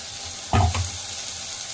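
Grated coconut sautés in oil in a pan, giving a steady close sizzle with a brief clatter of stirring partway through.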